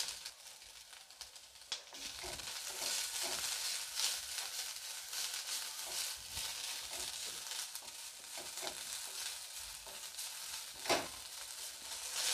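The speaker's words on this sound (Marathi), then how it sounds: "ठेचा चांगला तेलावर असा परतून घ्यायचा।" Chili thecha with a spoonful of turmeric frying and being stirred in hot oil, a steady close sizzle with scraping stir strokes throughout and a sharper crackle near the end.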